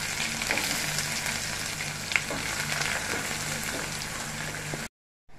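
Finely chopped large onion hitting hot oil in a pan, along with dried red chillies, while cooking beetroot kootu. It makes a steady, dense sizzle that runs unbroken for about five seconds, with a brief louder crackle midway before it cuts out.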